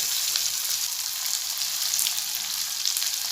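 Small peeled shallots frying in oil in a pan while making a calcium-rich thuvaiyal, a loud, continuous close-up sizzle with a bright crackling hiss and no talking.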